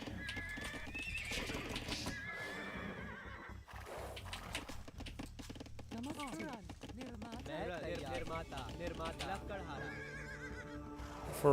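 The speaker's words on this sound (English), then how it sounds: "That's another horse. He's spamming horses." Horses in the video game Age of Empires 2 neigh and whinny repeatedly amid busy game effects, with galloping clip-clop and clashing sounds underneath, several whinnies overlapping in the middle of the clip.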